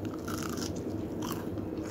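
A close, crisp crunch of a Jamaican fried dumpling being bitten and chewed, with a steady crackling texture throughout.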